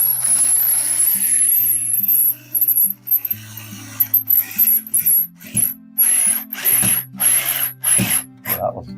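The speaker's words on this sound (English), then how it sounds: "putting flathead screws on these wall plates" A handheld screwdriver drives flathead screws into wall plates, giving repeated ratcheting, grinding bursts separated by brief pauses, loud and close with no talk.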